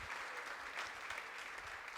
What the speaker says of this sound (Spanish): Le dan un fuerte aplauso al Señor esta noche, porque Él es bueno